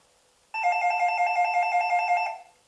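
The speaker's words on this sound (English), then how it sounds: "It's a wireless doorbell." A Lidl wireless doorbell rings with a bright warbling electronic chime, repeating rapidly for about two seconds, loud and close in an otherwise quiet room.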